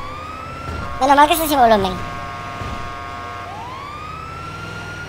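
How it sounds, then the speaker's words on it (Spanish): Ambulance siren in a GTA roleplay video game: a loud, brief wailing burst with sweeping tones that fades after a second or so, while a person talks over it. "qué escandalosa es la ambulancia"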